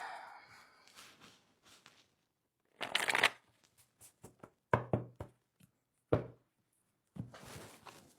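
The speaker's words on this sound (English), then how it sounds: "Just want to shuffle this." Cards being shuffled in quick riffling bursts, close up, separated by pauses, with soft breaths and light taps between.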